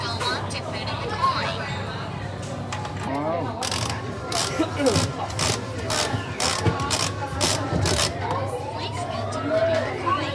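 A gacha capsule toy machine in Hong Kong has its crank turned, giving a run of loud, close ratcheting clicks amid a busy public space where people are talking.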